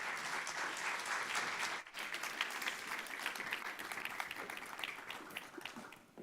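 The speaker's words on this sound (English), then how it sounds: "So please join me in giving them a round of applause." An audience gives a warm round of applause for panelists at a Georgia panel on healthy food access, steady clapping with a brief dip partway through, at moderate distance and fairly soft.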